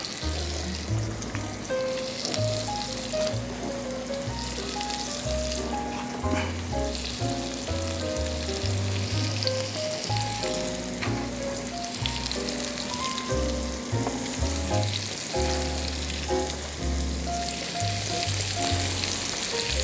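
Chicken for chicken marsala fries in a hot pan with a steady, crackling sizzle, joined by occasional clinks and stirring scrapes, plus a low musical tone running underneath the whole time.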